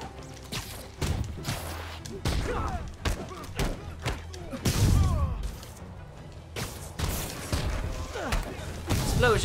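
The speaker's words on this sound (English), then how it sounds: "Explosions. Lightning explosions." Spider-Man video game combat with lightning explosions: a run of heavy thuds, crashes and whooshing blasts in irregular bursts, with a voice talking over parts of the action.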